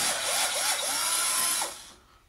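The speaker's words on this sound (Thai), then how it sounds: "เดี๋ยวผมจะเปิดน็อตทีละตัวนะเดี๋ยวผมใช้สว่านยิง" A power drill whirs in short revving bursts while backing screws out of an air conditioner unit, loud and close, then winds down and fades to quiet.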